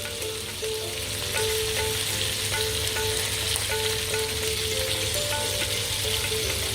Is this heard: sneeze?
no